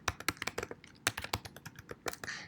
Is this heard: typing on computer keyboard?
yes